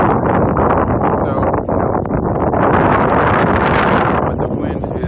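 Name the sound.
wind blowing loudly in trees on mountain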